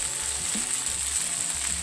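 Onions frying in a pan alongside turkey bacon, giving a continuous close bright sizzle with soft low bumps of movement in the pan at regular intervals.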